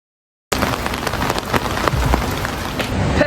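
Steady rain on a rainy day in Brisbane, a dense close hiss of drops with scattered louder patters that starts abruptly after a brief silence and continues without pause.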